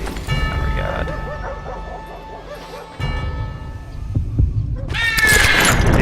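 A low, throbbing heartbeat pulses steadily before a gunfight draw in the Western game Ranslinger, with a humming tone over it and a sharper burst of sound near the end.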